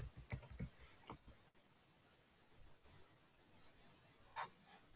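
A computer keyboard typed on, a quick cluster of close clicks at the start followed by near silence and one faint tap later.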